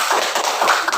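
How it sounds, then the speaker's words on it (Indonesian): Audience in a classroom clapping hands together, a brief dense patter of claps lasting about a second, steady and fairly close. "Oke, tepuk tangan untuk kita semuanya"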